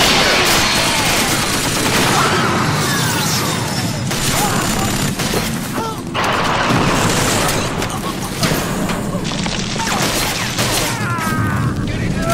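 Rapid gunfire and heavy explosions fill the intro of the Killzone video game, sustained loud bursts and booms layered with battle noise and occasional shouted voices.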